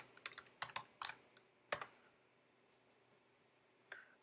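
Someone types a console producer command on a computer keyboard, giving a quiet run of about a dozen crisp key clicks in uneven clusters, then a pause and one final keystroke.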